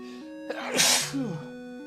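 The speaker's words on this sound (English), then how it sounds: "Can I sneeze?" A single loud close sneeze with a breathy intake, set over game music with steady tones.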